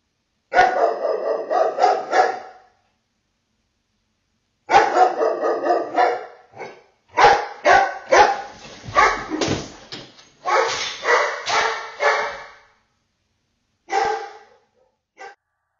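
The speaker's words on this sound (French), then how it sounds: "Le chien se met à aboyer sans raison." A dog barking in loud, rapid bursts, several volleys separated by brief silences, close by and with no other sound.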